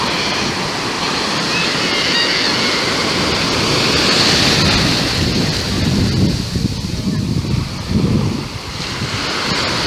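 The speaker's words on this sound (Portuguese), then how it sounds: "Altas ondas." Ocean waves breaking on the beach at Cabo Frio, a loud continuous roar of surf and wind with heavier crashes toward the end and no talking.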